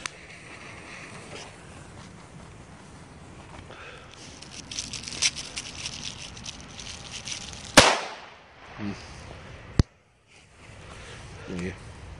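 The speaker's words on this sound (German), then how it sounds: "Weco A-Böller, die hatten wir doch schon." Weco A-Böller firecracker set off outdoors: one sharp loud bang followed by a second crack a moment later, with crackling, rustling and background voices beforehand.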